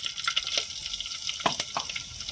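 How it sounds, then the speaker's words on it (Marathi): Cumin, mustard seeds and curry leaves tempered in hot oil for a rustic Maharashtrian varanphal, a soft crackling sizzle with scattered pops and stirring. "जिरे, मोहरी, कढीपत्ता अशी आपली बेसिक फोडणी आणि मसाला"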